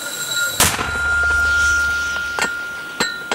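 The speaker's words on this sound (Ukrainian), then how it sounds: "Постріл." A sharp, loud mortar blast cracks out during a mortar crew's firing drill, followed by a lingering rumbling echo and a few fainter, distant bangs.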